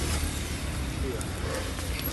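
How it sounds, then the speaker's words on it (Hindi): A road vehicle rumbles nearby as it pulls up and then moves off, its low engine drone holding steady under general outdoor noise, with a brief hiss that could be an air brake. "गाड़ी आ गई है, जा रही है।"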